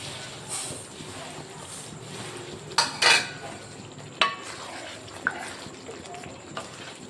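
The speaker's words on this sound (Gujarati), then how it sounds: "હવે લઈ લેશું આપણે પનીર આપણે બધું નાખી દઈશું અને ધીરે ગેસે આપણે એને ચડવા દઈશું." Paneer added to a pan of masala and left to cook over a low gas flame, giving a soft sizzle and scraping with a few sharp clinks of a spoon against the pan in the middle; a voice talks at times.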